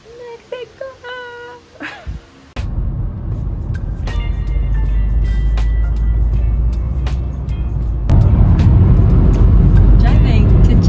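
A car rolls along a road on the drive to Chichen Itza in Mexico, heard from inside as a loud steady engine and road rumble that starts abruptly, swells louder near the end, and follows a few seconds of voices.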